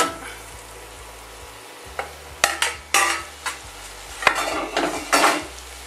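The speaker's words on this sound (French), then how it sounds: "Et après, vous leur donnez un petit coup de chaud, comme ça encore, pour mélanger le tout" Hot fettuccine is tossed and stirred in a pan, with several scraping clinks of a utensil against the metal over a quiet background hum; no voices.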